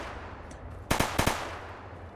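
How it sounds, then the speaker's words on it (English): Gunfire in a Fallout video game firefight: two close pairs of sharp, loud shots crack out in quick succession over a low ambient rumble, with fainter distant pops before them. "It's quite the firefight."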